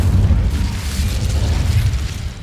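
An Incendio fire spell explodes in Hogwarts Legacy with a loud, continuous rumbling boom, a dense low roar with crackling burst texture that holds steady across the whole moment.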